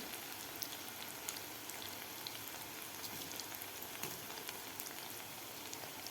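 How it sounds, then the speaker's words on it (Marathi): Potato and poha pakoras fry in hot oil with a continuous soft sizzle and scattered small pops and crackles. The sound is quiet and close, with no voices. "आता आपल्याला एक गोल्डन ब्राऊन होईपर्यंत तळून घ्यायचे आहेत"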